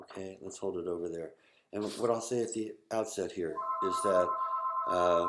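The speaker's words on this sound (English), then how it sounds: "that's the phone in the background" A phone rings in the background with a steady electronic tone in the latter part, partly under someone speaking in a room.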